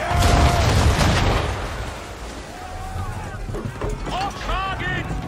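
Ship cannons fire in Assassin's Creed 3 during a naval battle, with a heavy booming burst up front, rumbling low blasts, and game voices shouting commands over sea and wind noise.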